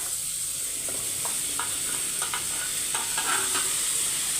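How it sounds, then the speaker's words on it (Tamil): Mushrooms sauté in melted butter in a pan on a stove at a simmer, giving a steady close sizzle with intermittent scraping stirs; no talking. "அந்த பட்டரில் நம்ம வதக்கி எடுத்துக்கலாம்"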